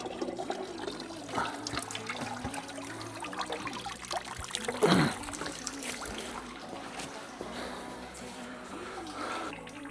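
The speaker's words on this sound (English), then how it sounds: "that's the bottom hose off and everything draining out" Coolant pours out of the bottom radiator hose of a turbo Subaru Impreza into a container below, a steady close splashing trickle lasting about ten seconds with a brief gush midway, with no talking.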